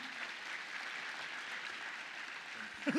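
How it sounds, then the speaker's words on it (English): Soft, distant clapping from an audience at a GenAI Genesis 2026 opening ceremony welcoming a dean's keynote, a low even patter that runs throughout, with a voice briefly breaking in at the very end. "A round of applause."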